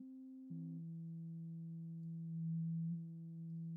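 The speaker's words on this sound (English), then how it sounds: "basically it's getting to be more of a sine wave, because basically we're filtering on the fundamental" A saw wave bandpass-filtered on its fundamental so it approaches a pure sine wave: a quiet, steady electronic tone that shifts pitch once early, with faint upper partials and a brief swell in level near the end.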